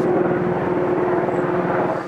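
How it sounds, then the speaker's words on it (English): Helicopter passing overhead above Becker, Minnesota, a loud, steady engine roar and rotor drone that stays close throughout the short stretch, with no talking. "I don't know where this helicopter... Take cover! Helicopter's like descending on Becker,"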